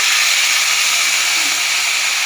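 Water poured into a hot pan for a Bengali banana-flower (mocha) curry sends up a loud, steady steam hiss that holds evenly throughout, with no talking.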